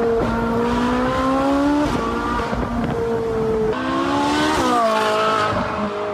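A Ferrari convertible sports car, repaired after an accident and driven with the top down, roars loudly on the road, its engine note climbing and dropping through several gear changes.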